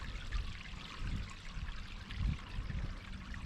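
Pond water pours steadily back into a skimmer, a continuous low gurgling trickle with a few louder splashing swells, close and alone.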